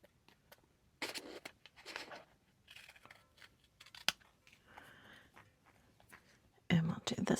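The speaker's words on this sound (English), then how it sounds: "I'm going to try to trim right into here." Scissors trimming paper for small botanical framed magnets, a few close snipping and rustling bursts separated by pauses, with someone speaking softly in between.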